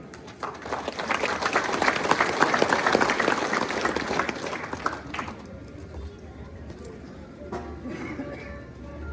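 Applause from the audience at a municipal president handover ceremony in San Juan Mixtepec, Oaxaca, loud and sustained for about five seconds before fading, followed by quieter room noise and scattered sounds.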